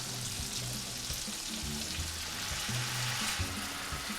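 Shrimp and onions in a pan for garlicky shrimp scampi hiss and sizzle steadily and loudly right after wine is poured in, a close, dense frying sound with no voices over it.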